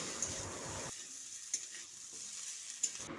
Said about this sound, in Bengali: হলুদ আর লঙ্কাটা দিয়ে আলুর সঙ্গে আরও কিছুক্ষণ মিশিয়ে দিচ্ছি